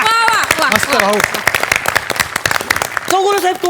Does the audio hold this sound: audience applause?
yes